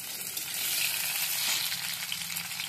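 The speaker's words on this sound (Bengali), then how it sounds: "এবার দিচ্ছি একটা টমেটো।" A tomato added to onions frying in a wok, giving a dense, steady hiss of sizzling oil that swells slightly midway, heard up close without voices.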